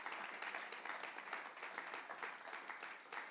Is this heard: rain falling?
no